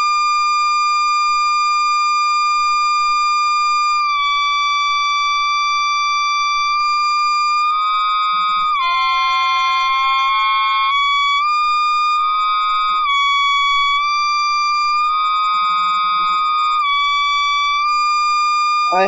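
A steady electronic test tone near 7 kHz from a circuit being adjusted with unstable trim potentiometers, holding for long stretches and wavering and stepping in pitch as the adjustment changes, loud and continuous with no talking.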